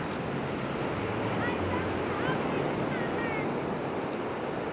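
Small glassy ocean waves roll onto Seven Mile Beach in a steady, even wash of surf with wind noise, and faint bird chirps drift above it.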